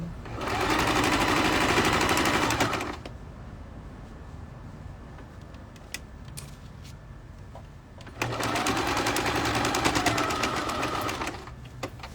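A domestic sewing machine stitches a pouch lining in two steady bursts, running forward then backstitching, with a quiet pause between runs. Each burst is a close, fast, even mechanical whir.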